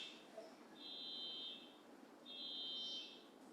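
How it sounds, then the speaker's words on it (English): Two long, high electronic car alarm tones sound in succession outside at a distance, faint and steady. "there's a car alarm going off"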